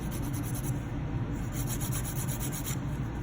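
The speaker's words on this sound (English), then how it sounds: "I'm going to start off with shortening these nails" Steady rhythmic rasping of a nail file shortening gel-covered fingernails, close and continuous with regular back-and-forth strokes.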